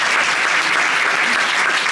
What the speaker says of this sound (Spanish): Un fuerte aplauso para la invitada.